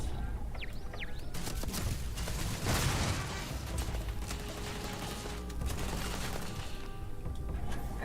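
Turrets in Starfield fire in a dense, continuous fusillade of rapid shots and impacts, loud and close, with no pause.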